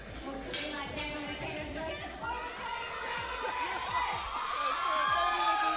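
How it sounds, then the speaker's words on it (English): A crowd at a men's 120+ kg classic powerlifting championship cheers on lifter Craig Smith with steady chatter, shouts and rising whoops that grow louder toward the end, mixed with voices. "The crowd gets behind Craig."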